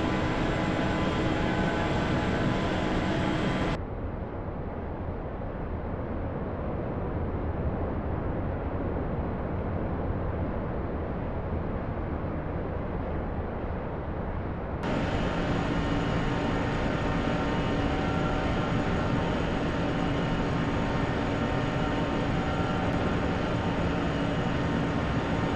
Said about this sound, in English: Getting ready for the takeoff now